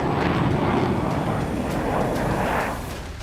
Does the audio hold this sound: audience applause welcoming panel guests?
no